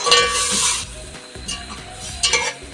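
A spoon stirs chana pulao with chickpeas in a pot, scraping against the metal in a few strokes over a soft sizzle, close up and with no voices.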